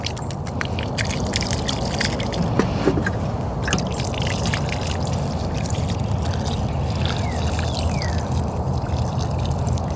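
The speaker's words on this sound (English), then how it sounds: "All right, so I'm gonna water it in." Water pours and trickles steadily onto newly planted Supertunias in a garden bed beneath a perennial hibiscus, a continuous close splashing flow with faint background ambience.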